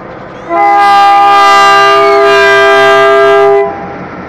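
A toy train's whistle gives one loud, steady, tonal blast lasting about three seconds, rich in harmonics, rising in and fading out over a low mechanical rumble.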